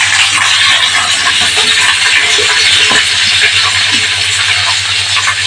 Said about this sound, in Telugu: ఇప్పుడు తాలింపు గింజలు వేసుకుందాం. పచ్చిమిర్చి యాడ్ చేసుకుందాం.